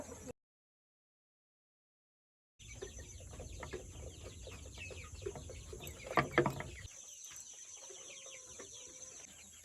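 Three-week-old free-range chicks in a new coop peep and cluck steadily at close range, with a gap of silence near the start and a busier burst of chirping midway.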